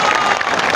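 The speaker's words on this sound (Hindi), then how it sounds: "इस घोषणा के साथ ही तालियों की गूंज से गड़गड़ा उठा" Crowd applause at the Jan Suraaj party launch rally in Patna: dense, steady clapping from a large gathering fills the whole short moment, loud and continuous.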